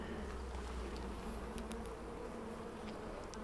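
Steady, dense buzzing of many honey bees humming together at close range at the hive, continuous and even, with no voices.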